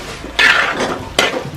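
Beef varattiyathu with garam masala stirred in a pan, Kerala style, two loud scraping clatters of the spoon against the pan about a second apart, close and without talk.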